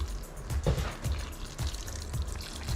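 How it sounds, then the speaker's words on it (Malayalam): Warm water pours in a steady splashy stream into a pot, with low gurgling bursts recurring every half second or so. "ആവശ്യത്തിന് വെള്ളം ഒഴിക്കുന്നു."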